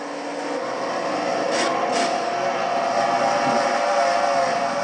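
A race car engine in a racing video game, a Castrol GTX Cup Series race, drones loudly and steadily, a sustained mechanical roar with a brief rising swell near the start.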